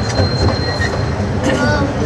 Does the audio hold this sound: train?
yes